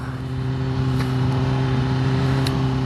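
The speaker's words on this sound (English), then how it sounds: "Now listen to that Akrapovic pipe and link pipe. Sounds absolutely amazing." A 2021 Kawasaki ZX-10R four-cylinder engine roars through an Akrapovic exhaust and link pipe, a steady loud close drone with firm harmonic tone held throughout.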